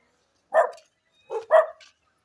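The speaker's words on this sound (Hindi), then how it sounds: "तो कुत्तों ने हमें घेर लिया है।" Dogs bark near a river during a fishing outing: one sharp bark, a short pause, then a quick double bark, fairly close and loud in otherwise quiet surroundings.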